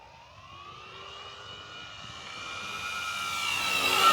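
An FMS Maule 1500mm RC airplane on a 4S 3200 battery flies at low throttle, its motor giving a steady whining drone with tonal harmonics that slowly grows louder and higher as it nears, with no voices.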